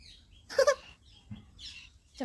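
Sparrows chirp nearby, a few short bright bursts of twittering with gaps between them, fairly faint against quiet surroundings.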